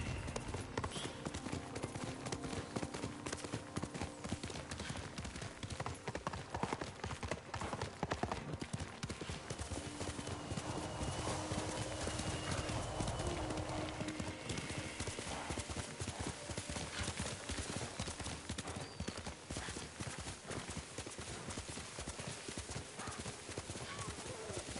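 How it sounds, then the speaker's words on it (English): Horse galloping in a video game, a steady rapid clip-clop of hooves that continues throughout with an occasional whinny, up close and driving, under spoken voices and a busy game soundtrack. "Good horse, Kage."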